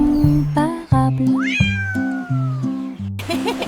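A cat meows several times in a row, close and clear, with one long drawn-out rising and falling meow in the middle, set over a bouncy nursery-rhyme accompaniment.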